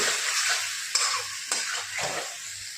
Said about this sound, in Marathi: आता आपण हे परतून घेऊ।